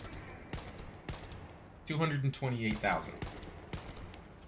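Weapon gunfire in The First Descendant, a run of quick sharp shots spaced about half a second apart, fairly soft, with a voice speaking briefly partway through.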